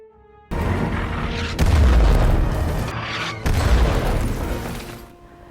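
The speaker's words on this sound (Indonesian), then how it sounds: "Tembakan dan ledakan tidak bisa dihindari." Loud, heavy booms and gunfire from a war film about a legendary sniper facing German soldiers roll in successive waves, each blast sustaining a dense rumbling roar before a sudden cut.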